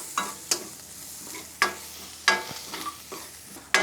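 Ingredients are sautéed in a pan with a low sizzle underneath and a series of sharp, irregular scraping and clanking stirring strokes, close up with no talking.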